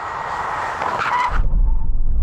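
Powerful cars launch in a drag race between a BMW M5 CS, an Audi RS6 GT and an AMG E63 S. A loud engine roar and tire noise rise for over a second, then cut to a deep low rumble.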